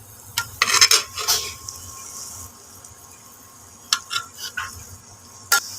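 Raw banana pieces with ginger and garlic are stirred in a pan, with a few quick clusters of spoon-on-metal scraping and clinks separated by quiet stretches and a faint low background.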